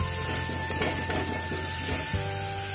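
Soybean and potato curry with spices frying in a pan gives a steady, close sizzle, with stirring scrapes and light clinks from the pan throughout.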